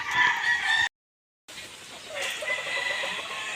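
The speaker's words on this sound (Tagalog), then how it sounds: "dami manok" A rooster crows loudly among chickens, then breaks off into a short silence before the flock's clucking and another crow carry on at moderate distance.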